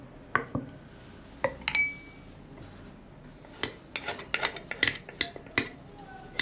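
A long wooden spoon stirs a thick flour mixture in a pot, knocking and scraping against the sides in irregular clatters and scrapes, close by and fairly quiet, with no talk over it.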